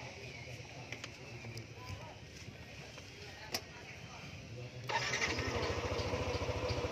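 A 2019 Yamaha NMAX scooter in rather poor condition at an auction starts up and settles into a steady, moderately loud idle, after background chatter and ambient noise.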